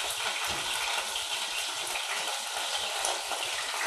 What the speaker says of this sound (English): Now the meat is nicely browned all around now. I'm going to add the fresh tomato sauce.